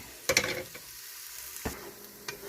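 Onions softening in a pan while being stirred for Southern collard greens, with a low steady sizzle broken by a few sharp scraping stirs near the start and middle, no voices.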